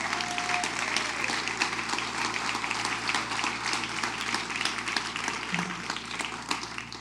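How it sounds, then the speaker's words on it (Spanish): A church congregation applauding together during a sermon, a dense, steady wash of clapping that holds for the whole stretch with no voices over it. "Denle un aplauso al Señor."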